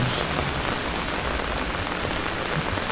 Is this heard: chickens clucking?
no